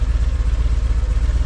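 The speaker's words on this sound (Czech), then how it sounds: "Ale prostě to je motorka" A motorcycle ticking over at idle on a road near Amalfi, its low rumble pulsing evenly and rapidly, loud, close and unbroken by speech.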